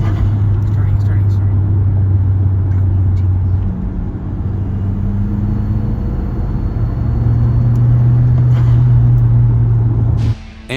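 A 2010 Hyundai Genesis Coupe R-Spec 2.0T turbo four with an aftermarket GReddy blow-off valve idles steadily close by, a low droning hum shifting pitch slightly as revs change, cutting off abruptly near the end.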